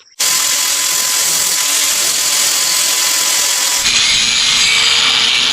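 A power grinder starts up and runs continuously at high speed, grinding metal, loud and close, its whine shifting slightly in pitch near the end.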